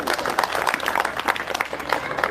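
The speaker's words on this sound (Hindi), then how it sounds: "एक बार जोरदार तालियां बजा दीजिए।" Audience applause at a Hindi kavi sammelan poetry gathering in Faridabad, a dense steady wash of many hands clapping close by for a couple of seconds with no talk over it.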